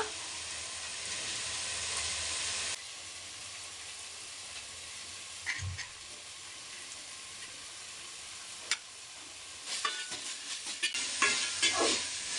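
Chopped vegetables tossed into a hot pan for vegetable fried rice, a steady sizzle with occasional scraping and stirring clatter, close and moderately loud.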